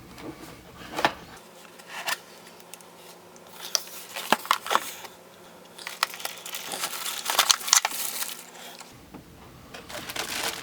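A Corsair K70 gaming keyboard comes out of its box with rustling, crinkling plastic and cardboard, scattered clicks and handling noises, close and fairly loud, and nobody talks.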